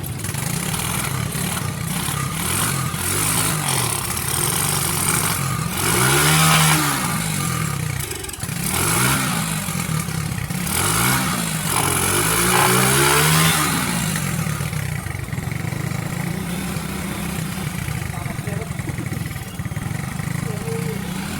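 A repaired motorcycle, its carburetor just worked on, runs close by with an uneven engine note and several rising revs, while people talk over it throughout.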